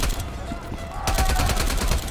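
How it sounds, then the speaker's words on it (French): Bursts of automatic gunfire in Call of Duty Cold War, quieter at first and then louder and denser, with rapid overlapping shots over a busy game backdrop. "qui me tire dessus, là?"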